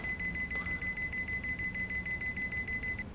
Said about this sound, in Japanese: ずいぶんピピピピ言ってるけど大丈夫なのかな